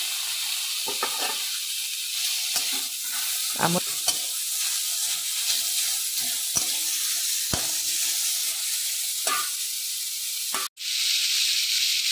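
Saag greens fry in a pan with a steady, close sizzle and hiss, broken by the irregular scrape and clatter of a spoon stirring them, with no voices.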